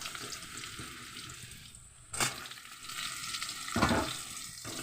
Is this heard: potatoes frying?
yes